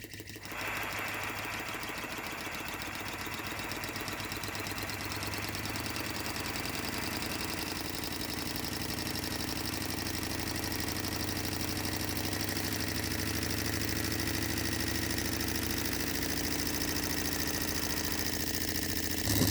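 An OKMO R02 Rider Ericsson Stirling engine, Denny improved model, heated by a gas flame, runs at a steady pace, with a continuous fast mechanical chatter and hum that stays even and close throughout, with no talking.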